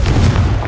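Single Confringo blasting spell explosion in Hogwarts Legacy, a short, heavy, low-pitched boom heard up close and loud.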